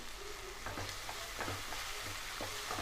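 Capsicum stir-fried in a pan for a chicken dish sizzles softly and steadily, with scattered scrapes and light knocks from stirring, faint and close, without talk.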